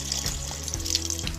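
Tap water runs steadily for ablution handwashing, a continuous close splashing stream with a faint low hum underneath and no talking.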